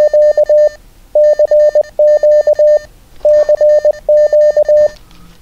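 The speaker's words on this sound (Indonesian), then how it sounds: "Atau kita bisa ngirim juga pakai Morse." Morse code tones sent over a handheld radio, spelling the letters C and Q: loud, crisp beeps in short and long pulses form repeated groups separated by brief gaps, with no voices.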